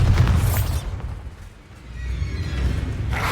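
A heavy booming blast from the Bombarda spell in Hogwarts Legacy, a loud rumbling explosion that fades midway and then swells again into a second roaring burst.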